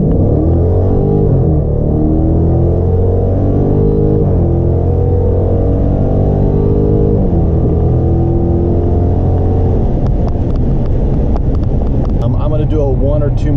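A car engine runs hard on a horsepower dyno, loud and close, with the revs climbing in repeated sweeps before backing off, then easing into a rougher, fluttering idle near the end.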